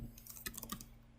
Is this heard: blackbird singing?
no